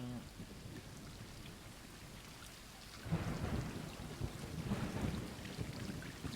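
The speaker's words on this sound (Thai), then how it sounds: "ฝนตก" Steady rain falls throughout in the video game Stray, with a low rumble of thunder rolling in partway through and swelling, no voices.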